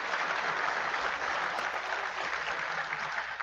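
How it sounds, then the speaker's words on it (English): A round of applause from a crowd at a Warhammer Fest watch party, a dense, even roar of clapping that holds steady throughout, fairly distant and slightly muffled. "have a round of applause"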